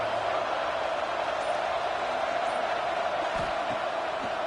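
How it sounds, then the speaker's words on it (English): A stadium crowd at a college football game roars steadily on third down, a loud continuous wall of noise heard from within the stands, with a few thumps underneath. "Guns up, and so is the noise. The crowd electric, trying to help Tech on this third down."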